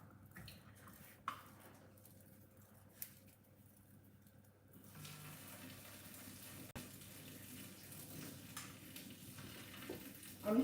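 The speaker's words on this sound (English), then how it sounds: "I'm draining the water off." Water is drained off cooked spaghetti into a kitchen sink, quiet at first with a few small knocks, then a steady rushing pour that grows denser and continues to the end, with no voices.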